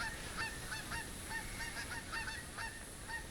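Geese in theHunter Classic's Hirschfelden area honk repeatedly overhead, a flock of faint, somewhat distant calls overlapping in an irregular chorus.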